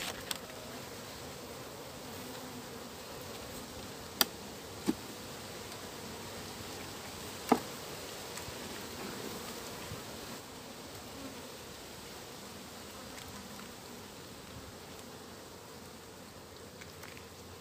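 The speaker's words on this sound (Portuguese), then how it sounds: "as abelhas estão muito quietas, muito calma." Honeybees buzzing around an open beehive during a honey-production inspection, a steady, soft, continuous drone with a few faint clicks and rustles and no talk.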